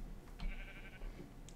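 A Minecraft sheep gives a short, nasal bleat lasting about a second, fairly faint over a steady background hum.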